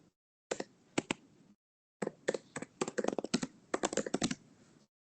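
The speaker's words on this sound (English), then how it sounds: "Yeah, just type in anything." Rapid keystrokes on a computer keyboard come in two bursts, a few scattered clicks first and then a dense run of typing after a short pause, close and crisp in a quiet room.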